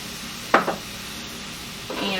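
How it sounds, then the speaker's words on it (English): Ground beef and onions with a spice mix sizzle quietly in a pan, broken by two close scraping stirs, one sharp near the start and a longer one at the end. "we're going to cook this down until the ground beef is cooked through and the onions are tender"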